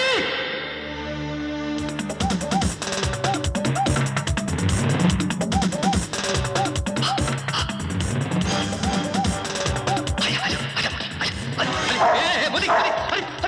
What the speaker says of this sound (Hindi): अरे ये पागल कुत्ता मोती पागल हो गया